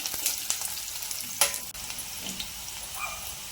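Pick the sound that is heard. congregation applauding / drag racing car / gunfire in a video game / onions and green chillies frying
onions and green chillies frying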